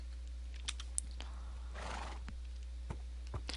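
A horse neighing in the Minecraft video game, a brief whinny burst in the middle between sharp clicks, fairly faint against a steady low hum.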